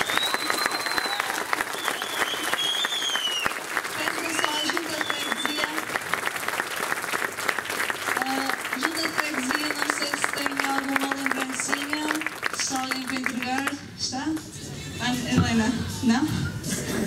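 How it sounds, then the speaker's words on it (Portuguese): Sustained audience applause fills the room, a dense crackle of many hands with cheering and voices carrying over it, thinning briefly near the end before swelling again. "uma grande salva de palmas"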